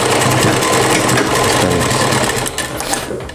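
A sewing machine stitches the side pocket of a kurti, a loud, steady, rapid mechanical whirr running continuously close by, easing slightly near the end.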